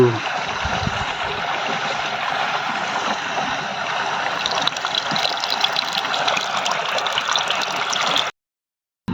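Water gushes steadily from a farm pump driven by a motor, a loud continuous broadband rush that holds for about eight seconds before cutting off abruptly into silence.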